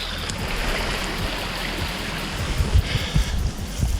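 A brook near McKenzie Brook Falls in Truro, Nova Scotia rushes in a steady broadband wash, close and fairly loud, with a few low thumps of footsteps or handling noise toward the end.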